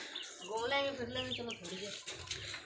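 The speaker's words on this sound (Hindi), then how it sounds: "इधर एक कबूतरी बैठी हुई है इधर काफी और कुछ कबूतर" Pigeons coo and call in a busy outdoor spot, their notes overlapping with nearby people talking.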